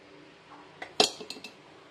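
A spoon stirs jaggery syrup in a pot, producing a few quick metallic clinks and taps against the vessel, one sharper knock in the middle, close and brief.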